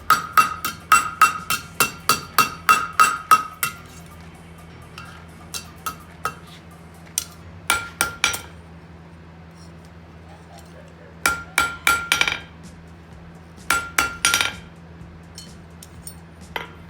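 A hammer forges a steel coat hook on the anvil horn: bursts of sharp, ringing metallic strikes in quick rhythmic runs, separated by pauses and scattered single blows, up close and without talk.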